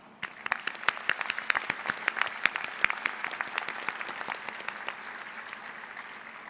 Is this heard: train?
no